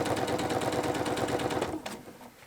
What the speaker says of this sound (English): machine binding, sewing the back of the quilt on first